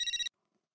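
A high electronic phone ring pulses rapidly for a fraction of a second, then cuts off into silence.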